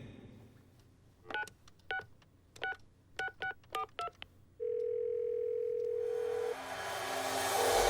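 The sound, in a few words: telephone number being dialed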